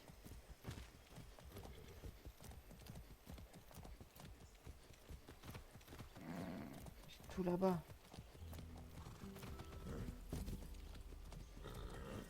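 Rhythmic horse hooves clip-clop steadily in the video game Far Cry 6 beneath a voice, with a brief louder burst midway and continuous background game sounds.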